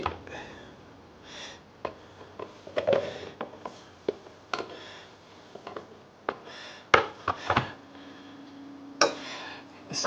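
Knife chopping potatoes on a board in a home kitchen, with irregular clusters of sharp taps and thuds spaced through the clip and quiet background noise between them.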